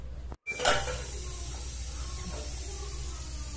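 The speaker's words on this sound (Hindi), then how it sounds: "अब इसे हम कढ़ाई में रख देंगे सेकने के लिए और ढक देंगे इसको।" A pizza is set into a kadhai and covered with its lid, giving a single close metallic clatter and clink of cookware, then a steady low background hum with no voices.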